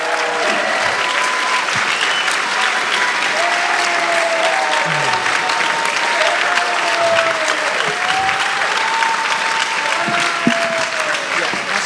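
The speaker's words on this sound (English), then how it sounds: "Big round of applause!" Loud, sustained audience applause at a political rally, dense and steady throughout, with a few cheers and voices mixed into the crowd noise.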